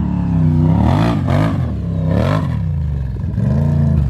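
A Jeep engine revs hard through its exhausts at a muddy off-road outing, three loud, close surging blips that rise and fall in pitch with short dips between them.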